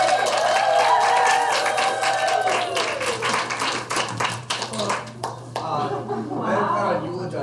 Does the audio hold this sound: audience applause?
yes